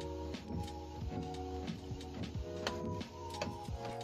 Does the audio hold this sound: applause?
no